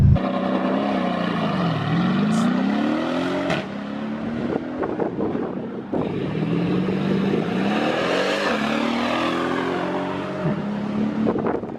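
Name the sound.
2015 Mercedes E63S AMG launch control acceleration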